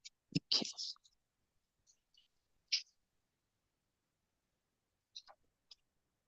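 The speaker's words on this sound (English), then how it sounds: "just turning the pages in my book" Pages of a book being turned indoors, a few short papery rustles and flips close by, one busy burst followed by scattered softer page sounds and quiet gaps.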